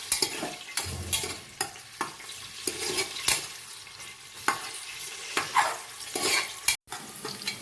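Onions with star anise, cinnamon and cloves sizzle in a couple spoons of oil for pulao, a close steady fry broken by repeated scraping stirs and light clatter of a spoon on the pan.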